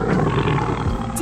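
A single tiger roar swells loud and close, short and growling, with a voice speaking around it.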